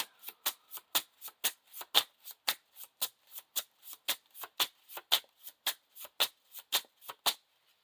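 Playing cards being riffle-shuffled during a Lord of the Rings card game, heard as a close, steady run of about twenty crisp, evenly spaced bursts with no talk.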